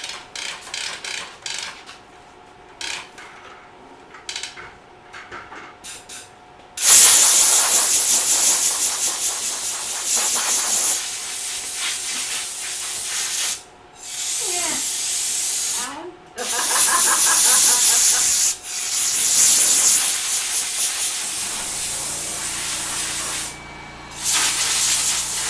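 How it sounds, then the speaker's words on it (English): Bed liner coating sprayed onto a haunted-attraction prop, a loud continuous hiss in several long bursts separated by short pauses, with quieter workshop noise between them. "We actually hit it with like a bed liner spray, so it gets a coating and it gets a bed liner spray."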